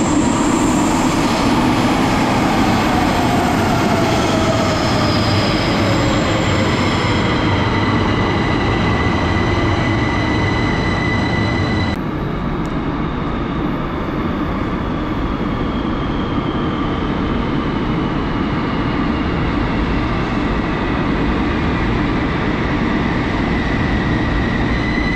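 Loud, continuous rumble of a metro train in motion in Algeria, with steady rolling noise and faint high squeals from the wheels fading partway through.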